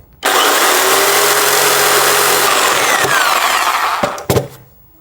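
A power tool saws into a water filter housing with fibrous media inside, a loud continuous whining grind for about four seconds, then a few sharp clacks and bumps as the cut ends.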